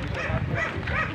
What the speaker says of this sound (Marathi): बापरे, कुत्रा भोगते आम्हाला बघून.